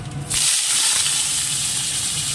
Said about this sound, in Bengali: এবার এই আলুটা ভেজে নেব।